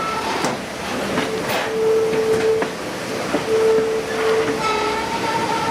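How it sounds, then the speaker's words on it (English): A 1940 vintage scenic railroad train crosses a river trestle, with a loud continuous rumble and rattle of cars, wheel squeals and some clanks close by. "we're going across the trestle, y'all"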